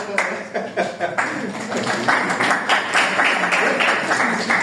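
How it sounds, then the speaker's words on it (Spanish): Students in a cardiology class break into hand clapping, a dense run of claps building and holding steady at close range in an indoor room. "Un aplauso."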